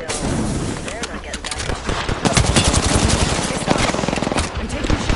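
Rapid automatic gunfire from a video game firefight, loud dense bursts and single shots crackling continuously with voices talking underneath.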